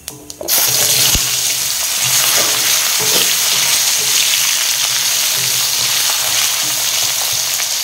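Radish sliced into hot oil with cumin sets off a sudden loud sizzle that stays steady and close, with faint stirring and scraping through the crackle.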